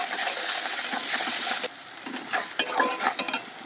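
Onion, chili and bay leaf frying in a pan after potatoes, with a steady hiss of sizzling oil and occasional stirring scrapes that grow more uneven partway through.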